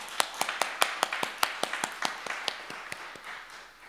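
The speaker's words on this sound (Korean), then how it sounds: "우리와 함께 하신 하나님께 감사의 박수를 올릴까요?" Sparse claps from a small church congregation at a dawn service echo in a room, a few dozen sharp hand claps in a loose rhythm that thins out toward the end.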